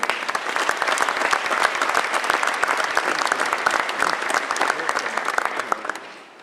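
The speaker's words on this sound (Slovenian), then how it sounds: "En aplavz tudi za njih." Audience at a Slovenian military brigade anniversary ceremony giving dense, sustained applause that stays loud and even before tapering off at the end.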